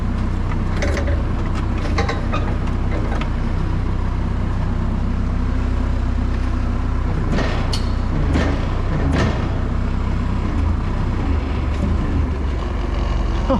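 A forklift engine runs and strains while lifting a heavy tank, a loud steady mechanical drone with scattered knocks and clunks, close by.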